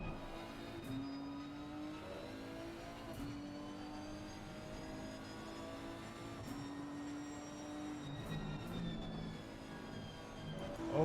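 Race cars in the game Assetto Corsa Competizione lap the Zolder circuit, their engines whining and rising in pitch through repeated accelerations and gear changes. The sound is steady and moderately loud, with several cars overlapping.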